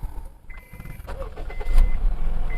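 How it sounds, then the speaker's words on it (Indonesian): The engine of a used car around ten years old cranks briefly and catches, then settles into a close low idle. "Kita cek, kita nyalakan mesinnya, apakah ada bunyi-bunyian aneh atau tidak."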